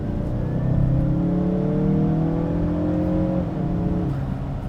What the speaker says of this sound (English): That turbocharged engine has this kind of whir to it